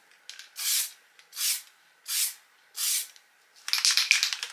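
Spray gun applying paint to a Porsche 928 body panel: four evenly spaced hissing bursts, each about half a second, close and fairly loud, followed by a rougher sustained spraying hiss at the end, with no talking.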